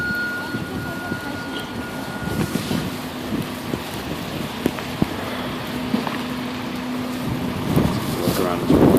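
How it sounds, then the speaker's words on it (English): Wind gusts through a New York City street as a January 2014 nor'easter snowstorm sets in, a steady, close roar with buffeting against the microphone for the whole stretch. "Hear the wind."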